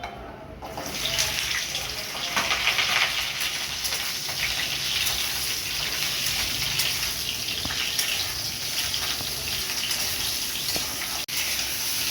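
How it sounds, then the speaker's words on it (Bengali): Ridge gourd and potato pieces frying in hot oil, a steady hissing sizzle that holds at an even level and stays fairly close throughout. "এই দেখেন ঝিঙে আলু হালকা ভেজে নিয়েছি"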